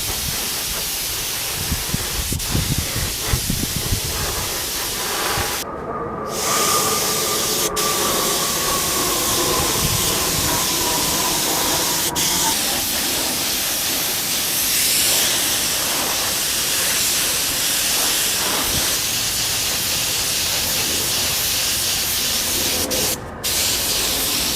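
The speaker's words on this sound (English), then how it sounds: "I think we can fire up the compressor and get some black paint on this" An air compressor runs while black paint is sprayed onto motorcycle restoration parts, a loud continuous hissing spray with a droning machine rumble underneath and a few brief sharper bursts, close and without any talk.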